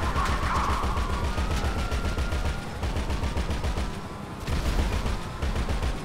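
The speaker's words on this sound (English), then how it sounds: "No, I gotta keep shooting." Rapid gunfire in Grand Theft Auto, with dense repeated bursts of automatic shots that pause briefly and then resume, loud and close with no talk over it.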